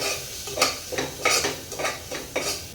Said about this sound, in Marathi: हे सगळे मसाले एकदा छान परतून घ्यायचे आहे